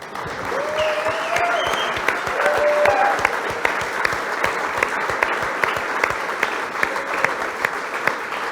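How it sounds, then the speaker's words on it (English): A crowd at a gathering gives a round of applause, sustained and fairly loud, with a few sharp individual claps standing out and a brief whistle-like tone rising over the clapping early on. "Let's give Jesus a round of applause."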